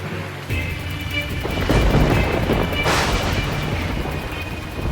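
Thunder rumbles loudly over steady rain, swelling into a heavy roll with a sharp crack near the end.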